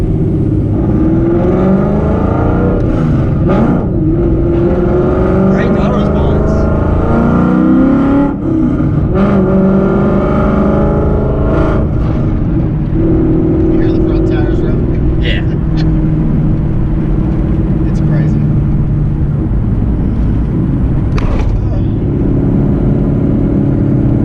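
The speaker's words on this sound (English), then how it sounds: "It's actually the first time I've ever driven a Coyote manual Fox." A manual Ford Fox-body Mustang with a swapped-in Coyote V8 drives and revs, its steady engine drone rising and falling throughout while people talk over it inside the car.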